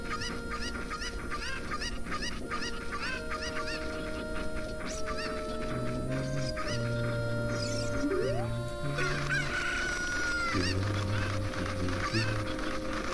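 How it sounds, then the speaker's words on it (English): Video game chickens cluck and squawk repeatedly in The Legend of Zelda: Ocarina of Time, with honking fowl calls over game music and tones, steady and moderately loud throughout. "Basically, we're just herding chickens now."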